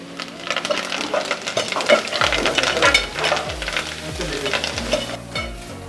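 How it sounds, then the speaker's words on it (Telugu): Onions frying with curry leaves in an aluminium pot for Ankapur chicken curry, a steady loud sizzle and crackle with repeated scraping strokes of a stirring spoon against the metal pot, no voices. "ఆనియన్స్ ఎక్కువ ఫ్రై అయిపోతుంది."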